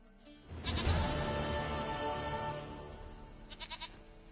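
A goat in The Witcher 3 gives one long, close bleat, followed by a shorter wavering tail, with no talking over it.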